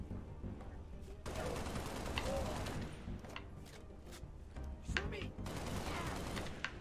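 Gunfire in the Halo video game on Legendary difficulty, heard as continuous rapid bursts of automatic fire and sharp shots over a busy battle soundscape, with faint game chirps mixed in. The level stays moderate throughout.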